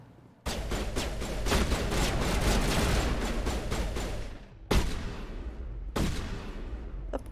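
Gunfire in the Mass Effect video game comes from an upstairs position, a rapid stream of shots followed by two separate sharp bursts, loud and close with no talking.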